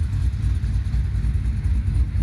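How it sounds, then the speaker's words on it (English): An LS1 V8 in a third-generation Camaro idles steadily, a low, even rumble held close and continuous for a couple of seconds with no voices over it. "I'm just letting her idle so we can charge the battery back up a little bit."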